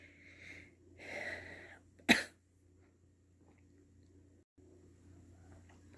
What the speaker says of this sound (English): Now I'm starting to cough again